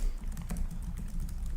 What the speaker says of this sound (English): Keyboard feels great.